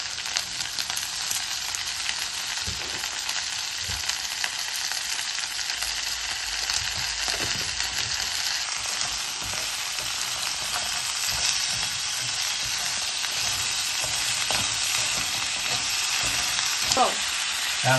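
Crab pieces frying in a pan with salt for crab curry, a continuous close sizzle with intermittent stirring scrapes and knocks, no talk.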